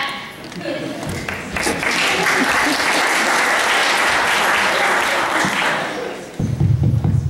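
Audience applause and clapping after an a cappella group's performance, a dense, sustained burst of many hands filling the room, tapering slightly before a brief rumble of low voices at the end.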